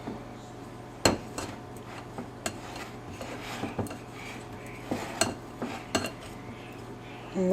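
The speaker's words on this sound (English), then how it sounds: "I'm cleaning with the back of the knife" The back of a knife scrapes and taps against a dish while cleaning it, with sharp clinks and short metallic scrapes scattered irregularly over a faint steady hum.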